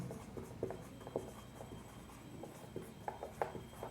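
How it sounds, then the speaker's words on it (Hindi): A pen scratches out the working to a class 7 maths problem on the perimeter and area of a circular park, soft, close strokes and taps in an irregular rhythm, quiet and alone. "हम डायरेक्ट लिखेंगे हियर"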